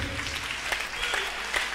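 Church congregation at a Sunday service clapping together, a steady burst of applause with sharper claps standing out, close and filling the short moment.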